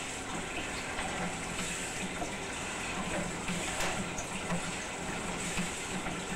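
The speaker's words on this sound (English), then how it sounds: "So we get a bit of water running." Water runs through an old, corroded cast iron pipe, a steady, faint gushing and splashing flow that continues evenly without pause and without voices.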